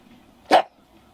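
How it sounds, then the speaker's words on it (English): A single sharp dog bark, loud and close, rising out of a quiet room and fading quickly. "Hey, what are you barking for?"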